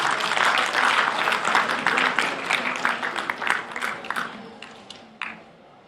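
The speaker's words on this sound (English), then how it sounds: "give a huge round of applause for this wonderful celebration" An audience at a university event applauds with dense, sustained clapping that gradually thins out and fades near the end.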